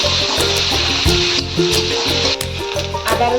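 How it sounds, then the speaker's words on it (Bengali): Ginger, garlic and onion sautéing in a pan sizzle steadily up close, with stirring scrapes, while rhythmic background music plays underneath. "আদা রসুন পেঁয়াজটা একটু ভালো করে কষিয়ে নেব"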